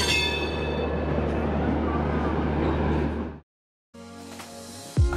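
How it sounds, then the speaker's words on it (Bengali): The Kamrup Express train running out of Howrah, a steady loud rumble of wheels and carriages that cuts to a short silence, then resumes with a faint squeal near the end. "হাওড়াকে বিদায় জানিয়ে কামরূপ এক্সপ্রেস ছুটে চলল তার নিজের গতিতে।"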